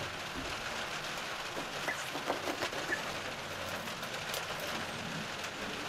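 Steady rain falls on a farm during daily chores, a soft continuous hiss of drops on surfaces with a few faint knocks and distant sounds, no talking.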